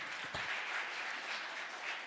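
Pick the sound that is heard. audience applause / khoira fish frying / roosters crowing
audience applause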